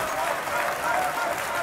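An esports crowd at a CS:GO match roars and applauds in a dense, continuous burst, with spectators on their feet under loud, excited commentary.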